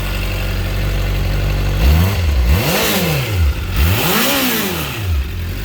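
A 2021 Honda CBR600RR with its stock exhaust, starting at a steady idle, then blipped through three sharp revs that climb and fall back, loud and close with no talk.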